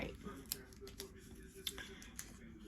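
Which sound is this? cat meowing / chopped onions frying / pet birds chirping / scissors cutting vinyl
scissors cutting vinyl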